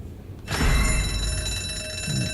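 A loud ringing alarm bell in the ZombiU game starts suddenly and keeps ringing steadily, with a brief low voice near the end.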